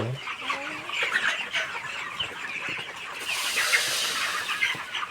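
Chickens clucking during morning feeding, several birds close by with continuous overlapping clucks and calls growing slightly busier toward the end.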